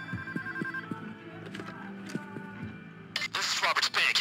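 A telephone rings inside the Payday heist video game, a bright electronic trill that sounds near and loud after about three seconds, following a stretch of game noise and low talk.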